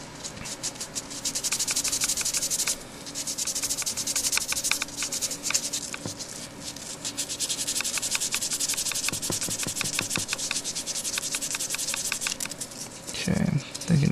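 Sandpaper rubbed by hand across a workpiece in steady, rapid back-and-forth strokes, close and continuous with brief pauses, ending in a few louder handling knocks.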